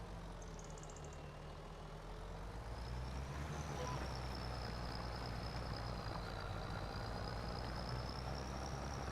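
Steady tractor engine drone in a farming simulator game, a low continuous rumble with a thin whine rising over it, even and unbroken for the whole stretch, with no talk.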